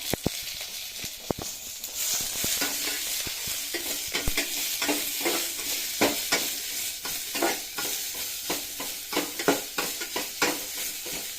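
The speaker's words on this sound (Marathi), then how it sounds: "कांदा वाजताना त्यामध्ये थोडंसं तेल टाकायचं आणि मग कांदा भाजायचा" Sliced onion roasting in a little oil over a wood-fired chulha while cooking spicy Konkan-style chicken, a continuous sizzle broken by repeated scraping and stirring strokes, close and steady with no talking.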